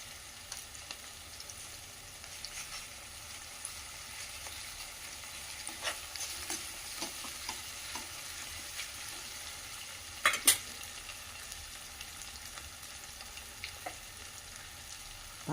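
Onions fry with ginger-garlic paste in a pan, a faint, steady sizzle with sparse stirring taps and one sharper utensil clink partway through.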